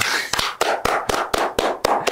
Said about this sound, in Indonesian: Boleh tepuk tangan untuk hari ini, Ustaz.